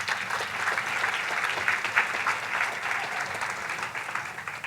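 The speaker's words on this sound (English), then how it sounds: "So we want to give a round of applause to" An audience claps at a morning business awards event for women in business. The steady crackle of many hands comes from some distance and stays fairly faint and even throughout, with no voices over it.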